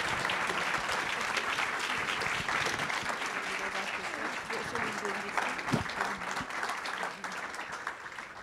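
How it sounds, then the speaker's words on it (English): Sustained audience applause for panelists at a climate action event, a dense steady clatter of many hands clapping throughout, with a voice briefly speaking over it near the end. "a big round of applause for our amazing panelists"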